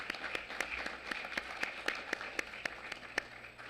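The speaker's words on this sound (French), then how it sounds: "demander à tout le monde un round d'applaudissements pour ces excellentes contributions de tous" A small audience at a scientific forum on health and climate crises gives a brief round of applause: sparse, distinct, fairly quiet claps in an uneven rhythm with no one speaking.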